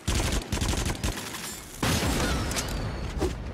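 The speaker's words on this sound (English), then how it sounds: "That was an explosion!" Explosions and gunfire go off in quick succession in the shooter game Until Dawn: Rush of Blood. There are loud dense bursts, a short dip, then a second heavy blast that rolls on.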